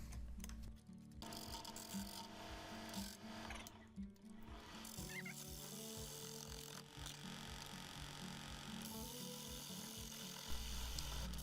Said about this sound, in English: I'm going to put it on to the cold jaw and then remove the tenon.